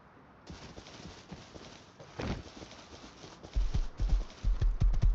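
Horse hooves clip-clopping in the survival video game Rust, soft irregular steps that grow louder and heavier toward the end, with no voices.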